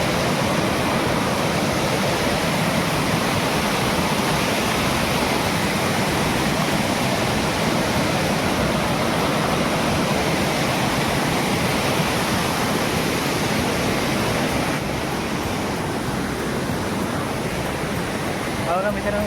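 A large forest waterfall roars steadily and loudly throughout, a dense unbroken rush of falling water close by, with a voice speaking over it.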